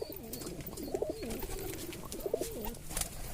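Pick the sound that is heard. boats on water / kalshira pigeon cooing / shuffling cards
kalshira pigeon cooing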